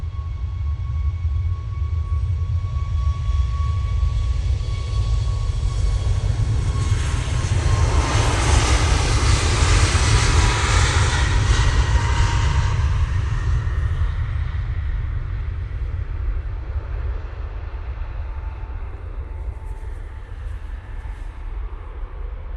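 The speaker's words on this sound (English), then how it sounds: "Ryanair 737 MAX 8 now spilling up." Jet engines of a Ryanair Boeing 737 MAX 8 spool up for departure toward Brussels, a steady whine and broad roar that builds to a loud peak, then slowly fades, with no voices.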